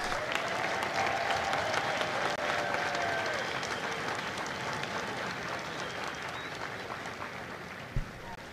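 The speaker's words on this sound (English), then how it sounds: "please join me in a round of applause for the company staff of Company C" At a Marine Corps recruit graduation ceremony at MCRD San Diego, a crowd applauds the Company C staff with broad, steady clapping. It comes across at a moderate distance and slowly tapers off toward the end.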